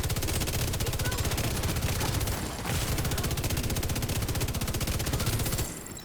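An LMG in the video game The Division 2 fires in long, rapid, evenly spaced bursts, loud and continuous with one brief pause midway before stopping near the end.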